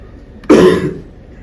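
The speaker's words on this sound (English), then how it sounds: "I apologize for the cough." At a post-game basketball press conference, a single sharp cough bursts out close to the microphone and fades within a fraction of a second, against a faint room hush.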